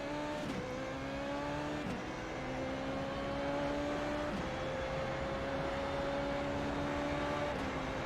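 A Formula Renault race car at Monza in the iRacing sim drones with a steady engine tone, and a series of quick downshifts each drop and blip the pitch, heard alone without talk.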